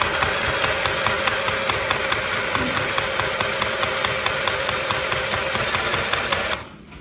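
An Akira mini sewing machine runs steadily with a rapid, even mechanical clatter, then stops abruptly near the end.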